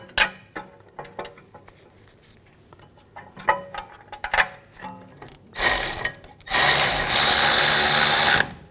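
A power tool drives in the brake caliper bracket bolts on a 2007-2013 BMW 328i, preceded by metallic clinks and handling of parts, then two loud whirring bursts, the second long and sustained, close by.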